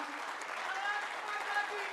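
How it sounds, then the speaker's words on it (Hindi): Thin, subdued clapping from a lecture-hall audience at a memorial lecture series drifts along steadily and fairly far off, with voices murmuring beneath it. "कमजोर तालियां आपकी, माफ करना।"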